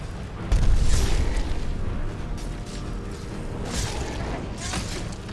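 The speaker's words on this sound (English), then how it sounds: "But that was when the adult dragon decided to attack." An adult dragon attacking in Skyrim, heard as a deep rumbling boom and crash at the start, followed by a steady low roar and rumble with a few harsher bursts near the end, alongside faint talk.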